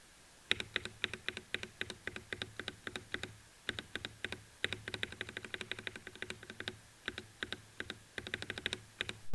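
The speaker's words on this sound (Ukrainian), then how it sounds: "зацініть ще раз саме пробіл" HATOR mechanical gaming keyboard space bar pressed over and over, giving crisp clacky keystrokes in quick bursts with short pauses, close and quiet, alone without talk.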